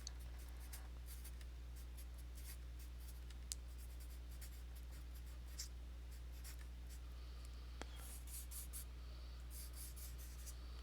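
Steady scratching strokes of writing during a math lecture on linear transformations, soft and close over a constant low electrical hum, with brief pauses between bursts of marks.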